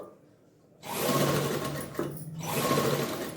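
A sewing machine stitches a garment's lining during home tailoring, starting after a quiet moment with a steady, close whirring run that briefly pauses before continuing.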